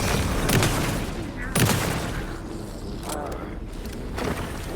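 A shotgun fires in Alan Wake 2: two sharp, heavy blasts about a second apart, with a fainter third shot near the end, over a dark, rumbling game backdrop.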